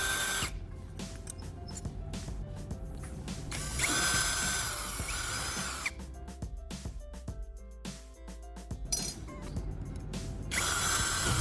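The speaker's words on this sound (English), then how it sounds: "I'll carefully drill holes at those marked spots" A power drill bores holes at marked spots, with repeated bursts of whirring and ratcheting mechanical clicking, close and fairly quiet, broken by short pauses.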